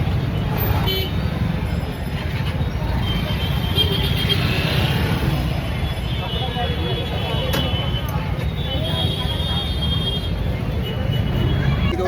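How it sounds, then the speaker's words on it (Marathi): Congested traffic crawls along a narrow street in Pune, with cars, buses and rickshaws idling and honking in short toots amid a busy crowd, while people talk nearby. "फुल ट्रॅफिक जाम केलं आहे."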